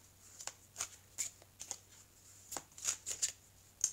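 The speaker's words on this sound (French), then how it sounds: "je vais mélanger les cartes" Playing cards being shuffled for an oracle reading, a series of soft riffling and slapping bursts at an uneven pace, close and fairly quiet, with no talk.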